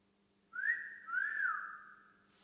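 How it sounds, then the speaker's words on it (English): A single person whistles softly, two short rising-and-falling phrases in a quiet room. "I heard some sort of whistling"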